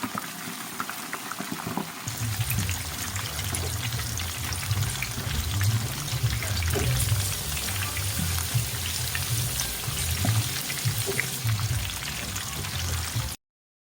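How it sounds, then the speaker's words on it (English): A Cornish hen deep-fries in hot oil, giving a dense, steady bubbling sizzle heard up close and alone for over ten seconds. "Alright, frying really good."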